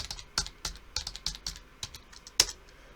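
Close, crisp keystrokes on a computer keyboard while entering Python list data, arriving in irregular bursts of single clicks with one sharper, louder key strike near the end, and no talking.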